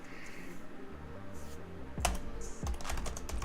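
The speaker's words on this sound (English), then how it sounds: "I don't even know if I'm typing in chat successfully." Keys clacking on a computer keyboard while someone types chat during a Star Wars: The Old Republic game stream, starting as soft scattered taps and turning into sharper, quicker bursts of keystrokes in the second half.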